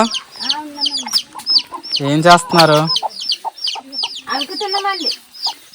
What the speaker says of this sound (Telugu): ఒక పుంజరాజు ఒక పెట్టమ్మ రెండు పిల్లలు